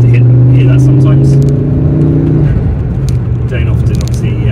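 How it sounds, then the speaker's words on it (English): Ford Focus RS MK2 with a Mountune MP350 kit, engine and exhaust heard from outside, a loud raspy droning tone that holds, then drops away into a rougher rumble, with someone talking over it. "it's got a real raspy noise on the outside"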